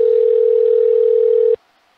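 A steady telephone dial tone hums on a Skype call, holding one continuous pitch for about a second and a half before cutting off abruptly into near silence; no ringing is heard.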